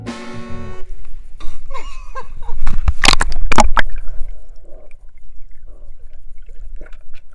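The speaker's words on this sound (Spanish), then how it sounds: "lo primero más importante es ver al perro meterse en el agua" A dog jumps into a swimming pool and splashes: sloshing, gurgling water with a louder splashy burst in the middle, close by, with a voice and a brief tone at the start.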